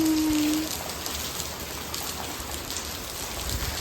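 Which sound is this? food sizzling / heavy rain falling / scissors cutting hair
heavy rain falling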